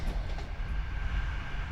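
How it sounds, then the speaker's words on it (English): A night passenger train running from Tajikistan into Uzbekistan at speed, heard from inside an open carriage as a steady low rumble with faint rail clatter, no voices. "the train has gotten much faster, running closer to 110 km per hour instead of the 40 we were doing in Tajikistan"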